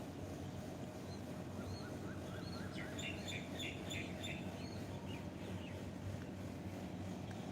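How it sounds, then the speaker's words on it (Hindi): Birds chirp outdoors, a scatter of small high tweets and calls in the middle of the stretch, faint and somewhat distant over a steady rushing background of wind or water. "पक्षियों की आवाज़ को,"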